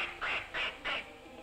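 A voice imitating a duck quacking, giving three loud, evenly spaced nasal quacks close up with a brief pause after.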